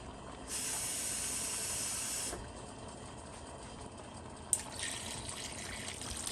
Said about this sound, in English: That's 4 cups of water.